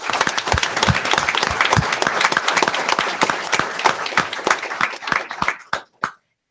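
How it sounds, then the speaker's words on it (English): A crowd at a school board meeting applauds a state championship team steadily with dense clapping, then thins out to a few scattered final claps before silence. "That deserves a round of applause."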